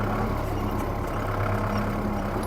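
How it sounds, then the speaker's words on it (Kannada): A Thailand-built Kubota 45HP tractor drives off-road at Bennur lake, its diesel engine holding a steady low rumble up close without a break. "ಬೆಣ್ಣೂರು ಕೆರೆಯಲ್ಲಿ ಟ್ರ್ಯಾಕ್ಟ್ರಿ ಹೊಡೆದಾಡೋಣ"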